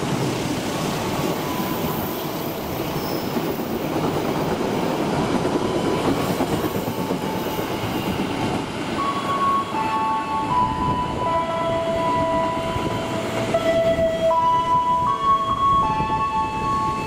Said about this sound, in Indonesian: kemudian melintas kereta api Dharma Wangsa